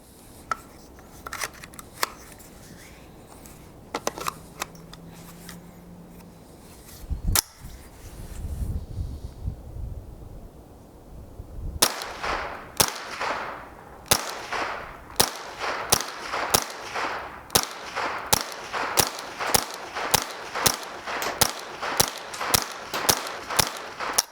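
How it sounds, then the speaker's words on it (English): A Winchester Wildcat .22 semi-auto rifle fires with no magazine inserted, giving a rapid string of sharp, close cracks after quieter clicks and handling noises. "See if it'll fire without a magazine in there."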